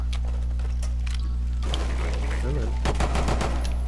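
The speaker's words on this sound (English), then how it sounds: "Oh, this fucking pistol." Pistol fire in a video game comes as a scatter of sharp cracks over a constant low hum, with a denser cluster of shots near the end.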